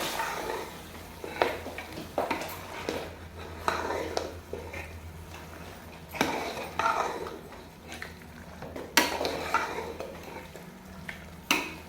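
A spoon stirs and mixes about two kilos of chicken karahi in a pan, giving repeated scraping strokes with a soft sizzle underneath, close and moderately quiet, with no talking.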